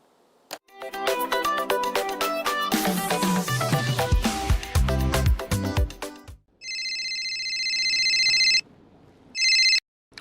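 A phone rings with an incoming call: electronic ringtone bursts sound twice in short, loud, sustained pulses with a pause between, following a stretch of busy music, with no talking over the ring.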